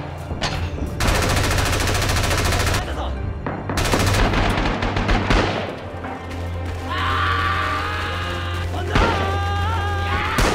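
Dense gunfire from the Rising Storm war video game, with sustained machine-gun bursts and heavy booms over a low rumble, continuing throughout as a voice speaks briefly in the mix.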